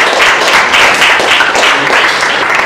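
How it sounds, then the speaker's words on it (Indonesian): Classroom applause for a student group after their biology presentation on plants, a dense steady patter of many hands clapping together at close range throughout, with no speech over it. "kita kasih tepuk tangan sekali lagi untuk kelompok 4"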